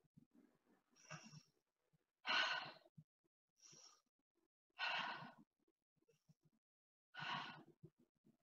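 Deep breaths during a yoga spinal flex, five slow audible exhalations spaced a second or two apart, close and fairly quiet with near silence between them.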